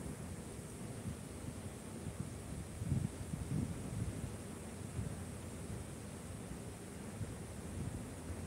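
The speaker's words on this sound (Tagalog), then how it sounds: "Lakas ng hangin." Strong wind roars steadily and close in an outdoor spot in Singapore, a broad buffeting rush with gusts swelling around the middle, no voices over it.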